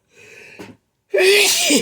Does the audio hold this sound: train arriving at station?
no